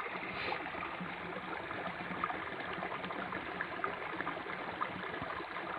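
River water flowing near waterfalls: a continuous soft broadband rush with faint splashy details, steady and somewhat distant, with no voices.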